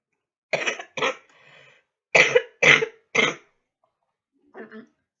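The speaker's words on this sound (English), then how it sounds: "sorry, like I said, still have a cough." A person coughs in two bursts, first a pair of coughs, then three more, followed by a quieter throat sound.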